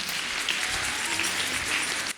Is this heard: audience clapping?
yes